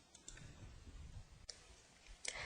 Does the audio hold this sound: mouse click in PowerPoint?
yes